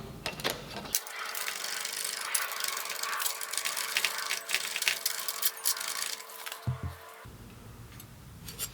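Metal stretcher working the folded edge of a steel panel for an MX5 Miata rear panel, a continuous close mechanical clatter of rapid metallic taps lasting several seconds before stopping.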